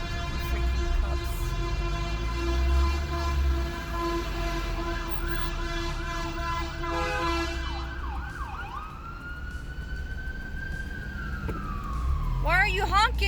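An ambulance siren wails and yelps on a Los Angeles road, heard from inside a car, loud and continuous over engine rumble, with the pitch sliding down at the end as it passes, and a person talking.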